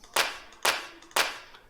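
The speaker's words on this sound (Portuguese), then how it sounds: "Nesses 3 botões aqui eu tenho aqui as palmas em grupo" Three evenly spaced group hand claps from an EZdrummer 2 drum software sample, each a sharp, bright, layered smack with a short tail, dry and close, about half a second apart.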